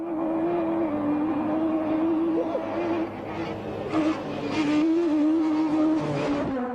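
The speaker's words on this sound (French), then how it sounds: "La voiture de rallye traction la plus mythique" A Peugeot 306 Maxi front-wheel-drive kit car rally engine roars and revs steadily nearby, its pitch rising and falling as it drives.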